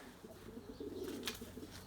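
Pigeons cooing softly as a flock circles overhead, a steady low murmur of bird calls at moderate distance with faint chirps breaking through.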